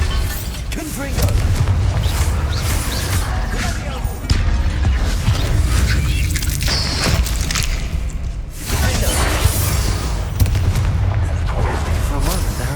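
Confringo fire spell blasts in the Hogwarts Legacy video game: repeated heavy booming impacts and crackling bursts over a steady, loud rumble of combat, lasting throughout without a pause.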